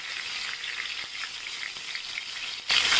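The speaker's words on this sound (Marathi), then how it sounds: "आपण त्यात फोडणी करण्यासाठी तेल तापत ठेवलं आहे, तर मोहरी टाकूया आपण." Hot oil for a tadka sizzles steadily as mustard seeds and bay leaves go in, a dense crackling hiss that jumps louder near the end as more is added, with no talk.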